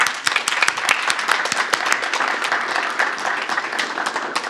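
Warm applause at a city schools board of education meeting, many hands clapping steadily from a room of attendees, fairly close and sustained throughout with no talking.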